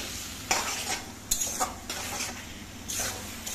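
Eggplant bharta frying in oil while a utensil stirs it in the pan, a steady soft sizzle broken by several brisk scraping strokes at irregular intervals, close and moderately quiet, with no talking.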